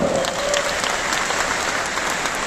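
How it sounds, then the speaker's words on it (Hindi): A crowd at a business program applauds loudly and steadily for the management, a continuous dense roar of clapping with no pause throughout. "हमारा प्यारे मैनेजमेंट के लिए एक जबरदस्त तालियां चाहूंगा।"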